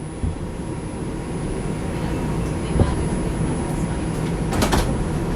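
A Brooklyn-bound 2 express train on the New York subway runs along the 5 line, a steady loud rumble and roar of the moving car with brief squeals and knocks late on.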